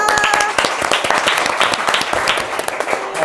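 Studio audience applauding during an Indonesian talk show episode, a brisk, close run of many overlapping hand claps at even loudness for a few seconds.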